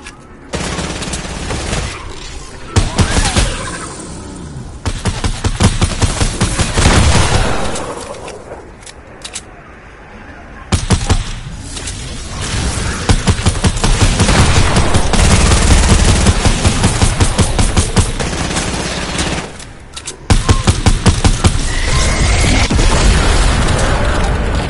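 Loud, sustained minigun fire rips through a shooter video game in long continuous bursts broken by brief pauses, dense and overpowering throughout.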